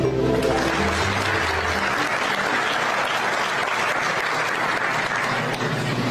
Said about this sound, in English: Let's get one last round of applause for that entire group of fine folks who made it possible.